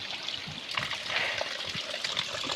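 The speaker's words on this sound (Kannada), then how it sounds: "ನೋಡಿ ಇಲ್ಲಿ ನೀರು ಹಿಡ್ಕೊತಿದ್ದಾಳೆ." Fresh hillside spring water on the Deviramma Betta trek trickles steadily into a woman's container, a continuous close splashing dribble with no voices.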